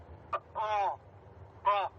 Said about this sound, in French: Le son de détresse du cormoran.